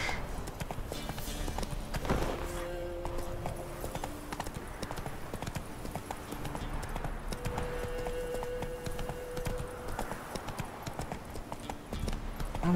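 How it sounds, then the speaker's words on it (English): Game horse hooves clip-clop steadily at a gallop in The Witcher 3: Wild Hunt, a continuous rhythmic drumming heard over a game soundscape, with no talking. "Okay, off we go, Roach"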